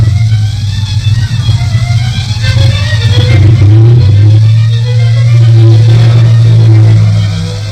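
Second World War Matilda tanks drive ashore at Finschhafen, their engines giving a loud, continuous, heavy rumble that swells and shifts as they move, with no voices.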